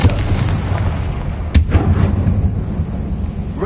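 A Confringo fire spell blasts in Hogwarts Legacy, a sharp booming burst at mid-clip over a steady low rumble of game sound, with no talk.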